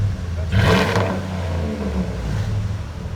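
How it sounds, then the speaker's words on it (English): A Dodge Ram 4x4 Bighorn Edition pickup with a HEMI V8 and dual Flowmaster Super 10 exhausts rumbles at a deep, loud idle, with a brief throttle blip early on before settling back into the steady burble. "Now it sounds like a truck."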